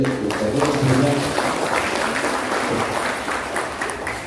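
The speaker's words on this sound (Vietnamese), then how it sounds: "Xin hội trường một tràng vỗ tay" Applause fills a congress hall at a Hanoi martial arts association congress, a dense crowd clapping steadily for several seconds and slowly thinning toward the end.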